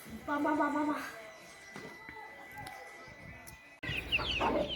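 Hens cluck and call nearby, with a louder burst of clucking at the start and again near the end, while a person talks.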